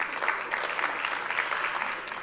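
An audience at a business summit talk claps steadily for a couple of seconds as a volunteer comes up on stage, a dense, even patter of many hands heard from a short distance.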